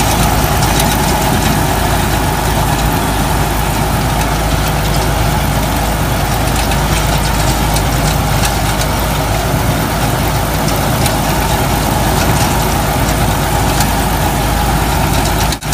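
A Sonalika 60 Tiger tractor pulls a 7 ft Raja Agro super seeder while sowing wheat in a field and chopping paddy straw. Its heavy diesel engine keeps up a loud, steady drone with no voices.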